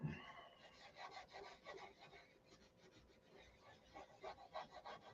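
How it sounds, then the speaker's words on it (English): Steady rasping of sandpaper rubbing back and forth on a wooden model airplane wing, faint and rhythmic, with no voices. "So I'm sanding the inboard wing now."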